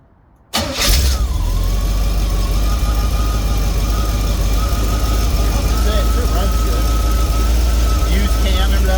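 A car engine idles and runs steadily after a radiator repair, its cooling fan whirring along with it. The engine starts abruptly and then holds a continuous loud drone for the rest of the time, with faint talk underneath.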